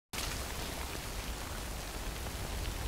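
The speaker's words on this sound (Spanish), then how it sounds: "busca refugio frente a la lluvia" Steady rain falls in the video game Death Stranding, a dense, even hiss that starts abruptly and holds at constant low volume for a few seconds, with no voices.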